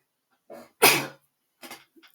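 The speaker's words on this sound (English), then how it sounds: "I had to sneeze at that moment." One sharp, loud sneeze, preceded by a quick intake of breath and followed by a few soft sniffs and breathy sounds.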